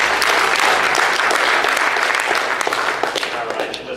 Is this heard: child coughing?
no